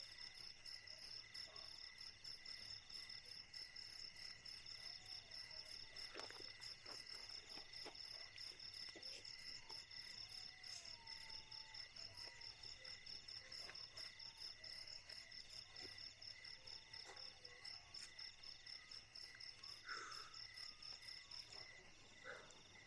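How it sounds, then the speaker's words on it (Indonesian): Crickets chirp steadily through the night at a camping spot beside a tent, a dense, continuous high-pitched trill with no voices, faint and even throughout. "jangkrik,"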